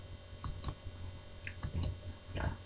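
Mouse clicks on a computer while working in the Visual Basic editor, several sharp close clicks in quick pairs and short groups, alone with no talk.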